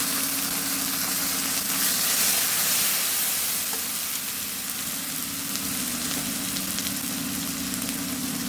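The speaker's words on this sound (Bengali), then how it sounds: "আলুটা ভেজে দিলাম" Potato pieces fry in hot oil with a loud, continuous crackling sizzle that holds steady and close throughout, with no voices.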